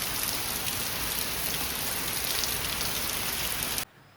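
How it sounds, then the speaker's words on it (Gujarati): Heavy rain pours down in a dense, steady hiss of drops hitting surfaces, loud and continuous until it cuts off abruptly near the end, with no voices. "સાઈડથી તમે જોઈ શકો છો કે કેટલો વરસાદ છે"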